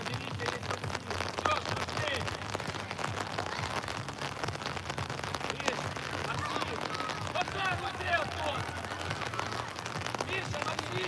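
At an outdoor football match, steady heavy rain pattering on surfaces with gusting wind roaring throughout, dense and continuous, with faint voices mixed into the noise.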